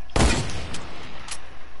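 Video game gunfire with a loud shot burst near the start followed by quieter reports, in an online match where a player tries a no-scope shot.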